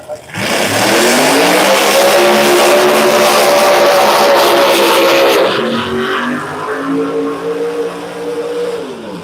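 A turbocharged Pro Mod drag race car at Bradenton Motorsports Park launches and accelerates hard down the strip, a loud, rising engine roar that shifts and carries on close and dominant, with no talk.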